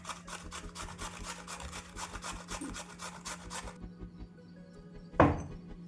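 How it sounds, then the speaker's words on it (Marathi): A peeled potato is grated by hand on a grater in fast, regular rasping strokes for several seconds, then stops, followed by a single sharp knock; close and quiet, with no voices. "हे दुसरा पण बटाटा आहे याला पण मी किसून घेतात"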